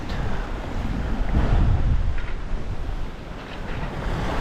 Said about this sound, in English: I think the winds are 18 from the north, and the swell is about 5 feet.